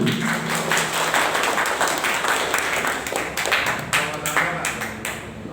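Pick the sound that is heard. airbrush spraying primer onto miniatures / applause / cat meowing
applause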